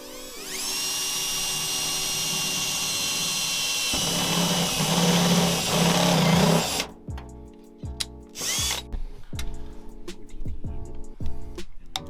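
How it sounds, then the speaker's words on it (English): A power drill boring holes for a MazdaSpeed 3 battery relocation, a loud continuous whine for several seconds, then stopping and giving a few short bursts and clatters nearby. "So now we just got to get our holes drilled out."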